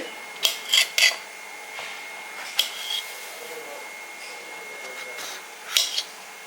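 A knife cuts the side edges off a bitter gourd, making several close, rasping scrapes and crisp slicing strokes in short bursts, separated by quieter gaps.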